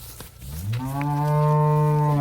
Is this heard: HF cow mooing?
yes